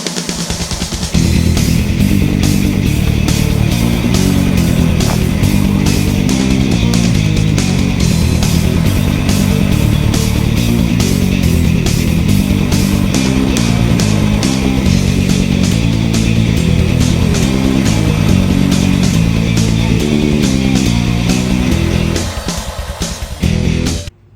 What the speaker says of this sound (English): We'll be using this spooler by Sportsman Innovations